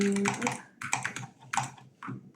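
A computer keyboard hammered hard during a Fortnite game, bursts of sharp, close clacking keystrokes in quick clusters separated by short pauses, with no talking.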